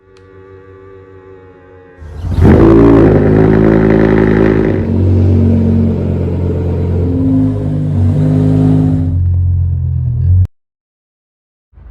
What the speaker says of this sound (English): What I'm going to do now is lift up my garage, pull out my M5,